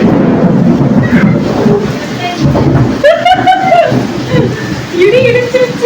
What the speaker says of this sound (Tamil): இடி இடிச்சிருச்சு